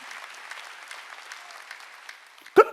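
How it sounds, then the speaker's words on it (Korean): A congregation claps and cheers through a Sunday worship service, a steady dense wash of applause with a sharp, louder burst near the end. "박수야."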